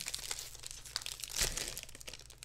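A foil wrapper on a Panini 2020-2021 NBA Select basketball card pack is torn open up close, giving faint crinkling and one sharper rip in the middle.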